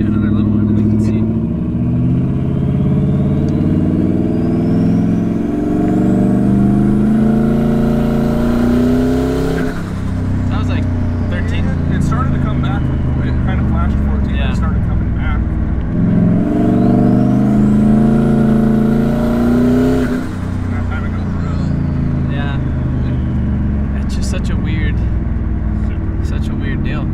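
A turbocharged Ford Crown Victoria runs a tuning pull, its engine roaring loudly as it climbs through the revs with a rising turbo whistle, drops back, then pulls hard a second time, all close up.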